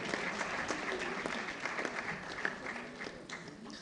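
An audience at a book launch in Ghana applauds, steady overlapping clapping heard from a distance and fairly faint, continuing evenly throughout with a murmur of voices beneath it.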